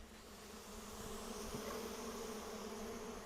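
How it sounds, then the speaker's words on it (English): Honey bees buzzing in a hive just after a puff of beekeeper's smoke, a steady, dense, close drone with a low hum that holds throughout and swells slightly midway, with no talking. "Listen to the sound that the bees make when you first add a little more smoke."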